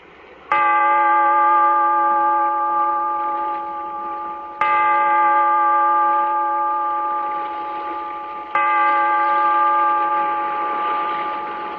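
A deep bell tolls three times at even intervals, each loud ringing stroke sustaining and slowly decaying into the next, with no talk over it.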